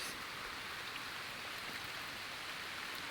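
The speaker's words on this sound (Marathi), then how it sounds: "आता एवढा पाऊस" Heavy monsoon downpour falls as a steady, dense wash of rain, faint and distant-sounding, with no voices over it.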